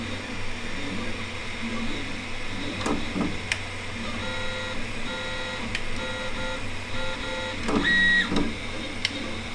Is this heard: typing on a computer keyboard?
no